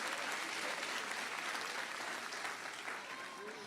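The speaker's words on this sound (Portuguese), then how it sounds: "Olha como é que o aplauso fica fraquinho." Audience applause at a Portuguese-language religious sermon fills the hall, a steady wash of clapping that thins and fades slightly toward the end.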